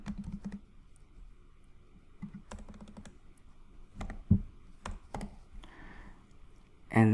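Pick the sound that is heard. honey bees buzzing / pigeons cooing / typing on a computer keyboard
typing on a computer keyboard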